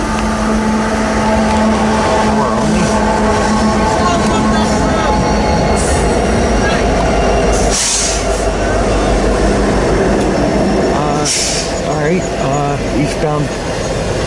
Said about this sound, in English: empty stack train.